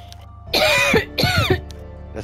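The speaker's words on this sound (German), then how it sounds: "Hör das Husten auf." Two loud, close bursts of harsh coughing and throat clearing, each lasting about half a second, separated by a short pause in a quiet room.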